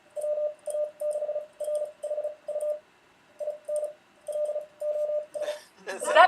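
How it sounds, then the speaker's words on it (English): Morse code tones tapped out in short and long bursts with pauses, fairly faint and clean, ending with a burst of noise. "Is that Morse code?"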